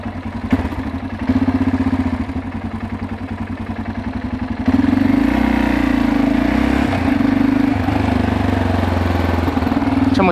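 A motorcycle engine runs loud and close while riding, holding a low rumbling drone that shifts and grows heavier about halfway through.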